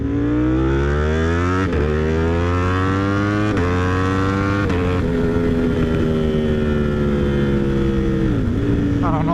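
A Ducati Streetfighter V4 sport bike revs loud and close while being ridden, its engine note climbing through gears in steady rising sweeps with brief dips at each shift, running continuously throughout.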